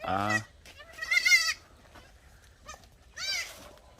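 A mother goat bleats loudly three times in short, wavering cries separated by quiet pauses, close by on a countryside farm.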